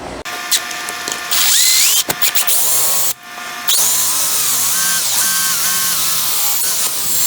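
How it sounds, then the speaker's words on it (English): A power drill bores a hole into a wooden chair stile during a comb back rocking chair restoration, its motor whining loudly in sustained bursts with brief pauses and pitch shifts as the bit bites into the wood. "We'll drill a hole right down the center"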